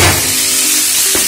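Meat browning in a casserole pot for a street-cooked bull and rice dish, a loud, close, continuous sizzle with faint stirring scrapes.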